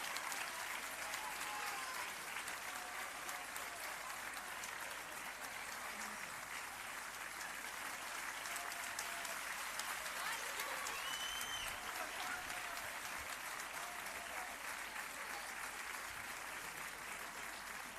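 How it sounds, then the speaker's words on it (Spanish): An auditorium audience at a handball team presentation applauds steadily for the full stretch, a dense, even wash of clapping with faint crowd murmur and whistles mixed in. "Un fuerte aplauso que se caiga al auditorio para Sandra Margarida Marqués Santiago."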